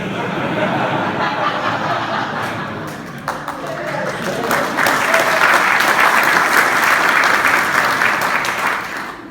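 An audience at a White House gathering of school superintendents and tech executives breaks into sustained applause. The clapping is loud and dense for about nine seconds and swells in the second half, with a little chuckling mixed in.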